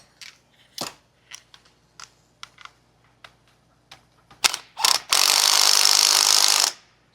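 A steering tie rod bolt is tightened on a Jeep Wrangler JK Rubicon fitted with a MetalCloak Fox steering system. A series of ratchet-like clicks and taps is followed by a loud, sustained burst of a power tool.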